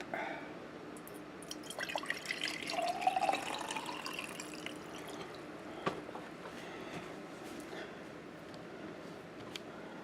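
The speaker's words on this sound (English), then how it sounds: "Pour some more water out into the cup." Water pours out into a cup beside a high-efficiency washing machine, a steady close trickling and splashing with a few drips, and no talk.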